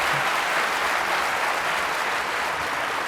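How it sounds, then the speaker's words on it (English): Audience applause at a gun-control debate, a dense, loud burst of clapping from a crowd, continuous and even throughout the few seconds heard. "let's give a round of applause for both of our debaters"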